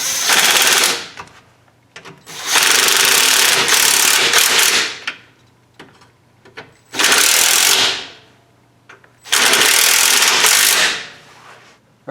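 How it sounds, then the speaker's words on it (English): Jeep sway bar bolts tightened with a ratchet or power tool, in four long loud bursts of mechanical whirring separated by quiet gaps, close by and with no speech. "Once you have all 4 bolts in, you can go and tighten them up equally."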